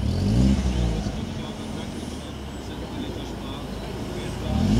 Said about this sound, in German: Jetzt kommen ja schon mal die ersten getunten Fahrzeuge hier rein.